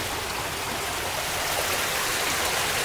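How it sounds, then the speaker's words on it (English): Raw sewage from a combined sewer overflow pours into the Allegheny River at a boat launch in Sharpsburg, making a constant, loud, broadband rush of water with no break or voices. "raw sewage from the alpha sand system flooding into the Allegheny River"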